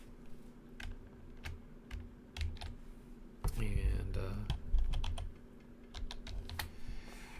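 Scattered computer keyboard keystrokes and clicks tap out irregularly at moderate volume, with a brief stretch of a voice talking mid-way over a low background hum.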